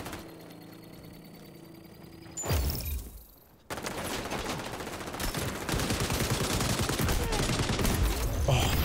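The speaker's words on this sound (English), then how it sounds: "Oh, shotgun's working quite nice there" Shotgun fire in the video game XDefiant, sharp blasts after a brief drop-out, then dense crackling gunfire and action noise that stays loud to the end.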